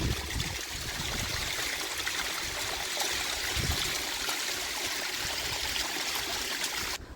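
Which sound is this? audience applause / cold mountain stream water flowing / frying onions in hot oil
cold mountain stream water flowing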